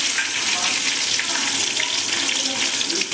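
Cut small onions (shallots) hit hot oil in a pan with already-fried quail, a loud, continuous, dense sizzle close up with no pauses and no one talking.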